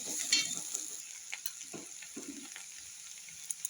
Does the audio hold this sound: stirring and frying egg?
yes